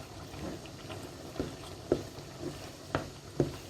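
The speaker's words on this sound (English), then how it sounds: "Let's give it another stir." A spoon stirs a Spanish cuttlefish stew with peas in a pot, giving soft, quiet scraping strokes with a few sharper knocks about once a second over a low simmering bubble.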